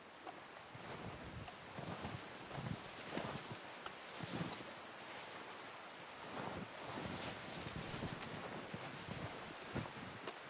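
Steady clip-clop of horse hooves in the video game Red Dead Redemption 2 over a constant windy, surf-like background, with irregular thuds throughout and no talking.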